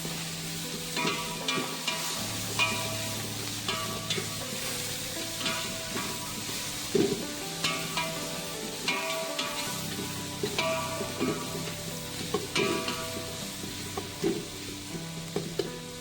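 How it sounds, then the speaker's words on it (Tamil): Curry leaves and coriander sauté in hot oil in a pan for chicken biryani, a steady close sizzle with repeated scraping stir strokes throughout, no voices. "சேர்த்து நல்லா வதக்க போகிறோம்."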